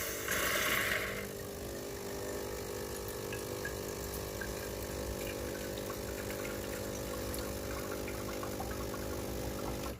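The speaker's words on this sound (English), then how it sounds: "You let the machine run the water for about 10 seconds." A Breville/Sage Barista Pro espresso machine runs water through its group head, a steady close pump hum with a brief louder hiss at the start, continuing evenly without speech.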